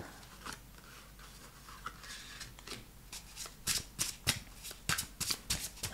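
Tarot cards shuffled close up in a quiet room, starting as a soft continuous riffling and building into a series of sharper, louder snaps and bridges toward the end, with no talking.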